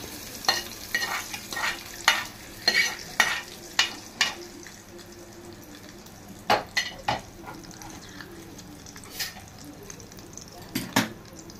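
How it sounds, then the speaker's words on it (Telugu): Tempering of spices sizzling as it is poured into coconut chutney for idli and dosa, soft hiss under repeated clinks and scrapes of a spoon stirring in a bowl, with occasional faint voices. "పచ్చళ్ళలో తాలింపు వేసేస్తున్నాము"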